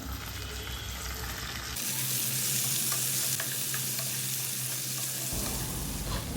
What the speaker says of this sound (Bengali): দুই থেকে তিন মিনিট আলুটাকে ভাজার পর এখানে দিয়ে দিচ্ছি প্রায় এক পর মতন সিম